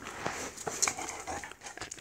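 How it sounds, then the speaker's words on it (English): A pet dog pants and whimpers close to the microphone, quick rhythmic breaths with a few thin, high whines mixed in, continuing throughout at moderate volume. "Sorry if you hear that noise. It's my dog."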